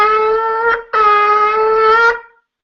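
A shofar sounds shevarim, three broken blasts: a sustained brassy blast broken by brief dips, loud and close, then fading out at the end.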